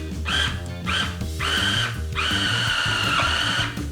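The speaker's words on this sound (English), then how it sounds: "I'm gonna go ahead and start blending it so we can get that lamb nice and ground up with the beef" Food processor pulsing ground lamb and beef for Greek-style gyros, several short motor bursts with brief gaps between, loud and close, no speech.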